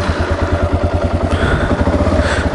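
A Kawasaki KLR650 motorcycle engine running just after a start with no choke: a loud, close, single-cylinder thump pulsing in an even, rapid rhythm, steady throughout.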